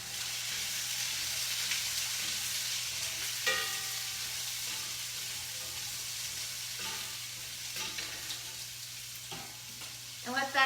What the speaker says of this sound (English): let me just go ahead and toss those so that they can be cooking in the oil